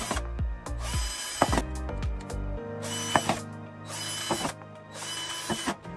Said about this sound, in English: got my drill and my bit to go ahead and make sure that I put holes in the bottom so this has proper drainage